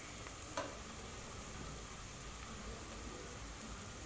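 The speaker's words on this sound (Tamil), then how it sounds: "இப்போ பாருங்கள் எனக்கு நல்லா வதங்கி வந்துச்சு." Onions sauté in a pan with a faint, continuous hissing sizzle, a couple of light utensil taps early on and no talking.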